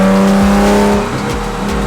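A Nissan 370Z V6 running on race gas gives a loud, close engine roar with a sustained harmonic drone, easing slightly toward the end.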